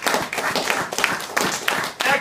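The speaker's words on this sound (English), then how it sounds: "First, let's give everybody a round of hands." An audience claps together in a round of applause for a costume contest, with dense, irregular hand claps that rise and fall over a couple of seconds and some voices mixed in.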